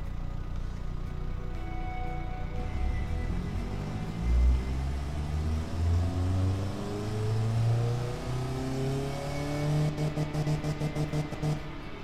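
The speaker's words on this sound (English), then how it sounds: "Baby steps on this engine." A car engine being tuned in small adjustments, idling with a low hum then revving up and easing off, the pitch climbing and falling in a couple of swells, with rapid pulsing near the end.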